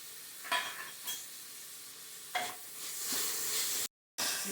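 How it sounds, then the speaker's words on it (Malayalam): Sliced onions sauté with a pinch of salt in a pan, sizzling steadily, with several scraping stirs of a spoon and a brief cut to silence near the end. "ഈ സബോള വേഗം വഴന്ന് കിട്ടാൻ വേണ്ടിയിട്ട് സ്വല്പം ഉപ്പ് ചേർക്കുന്നു"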